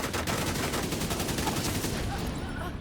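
Rapid, sustained automatic gunfire in a video game, dense and loud from start to finish, a continuous rattling burst with no pauses.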